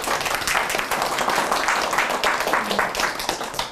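Audience applause at a discussion event, loud dense clapping that carries steadily throughout, with faint voices under it.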